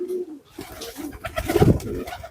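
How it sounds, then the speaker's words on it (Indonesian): A domestic pigeon coos in a short, close, moderately loud run of low throaty notes that swell toward the end, with no talk. "ini merpati ini giringannya bagus"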